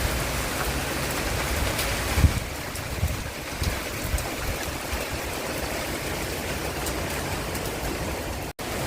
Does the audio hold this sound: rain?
yes